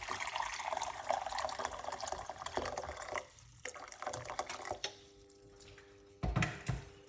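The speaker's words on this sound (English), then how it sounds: "quickly, 1 cup of hot water into the pot." Hot water poured from a cup into a cooking pot, a quiet splashing, gurgling stream that runs for a few seconds, thins out, then ends with a last short splash and drip.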